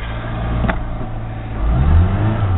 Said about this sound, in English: That is a serious clutch slip